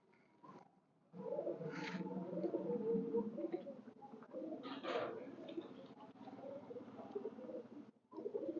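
High flyer pigeons coo in low, throaty repeated phrases, close by and fairly soft, with a few brief higher chirps mixed in over quiet surroundings.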